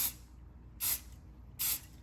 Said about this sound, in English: So just want to leave a little bit of space here so I can spray.